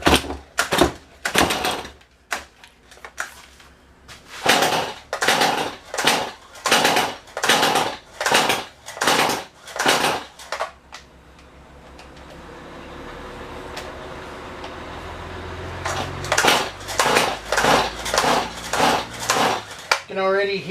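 A faulty Stihl chainsaw with something rattling inside being pull-started: a long run of loud, close, rhythmic rasping cord pulls, a short pause filled with low noise, then another burst of pulls.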